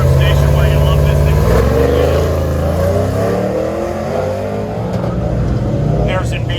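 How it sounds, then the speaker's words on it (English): A 1964 Chevy Nova at an autocross event roars loudly past the finish line, its engine revving and shifting pitch as it passes close by, with an announcer talking over it. "Harrison Beach driving that 1964 Chevy Nova comes across the finish line"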